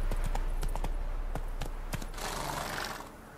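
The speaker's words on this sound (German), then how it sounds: "Sie wurden von einem Pferd ohne Reiter eingeholt. Von einem kastanienbraunen Hengst." Hoofbeats of a riderless chestnut stallion in an audio drama, a quick irregular clip-clop of hooves over a low steady rumble, followed by a rushing swell toward the end.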